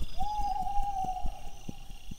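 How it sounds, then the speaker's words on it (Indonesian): An owl passing in flight near a bamboo clump at night gives a single long, steady hoot that rises at the start and holds for about two seconds over a low, rumbling background, with no talk. "burung hantu terbang melintas di depan obornya"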